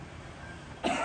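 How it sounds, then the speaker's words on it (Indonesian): A single close cough bursts out near the end of the clip after a quiet room tone, picked up by an Audix F50 microphone. "Saya batuk teman-teman."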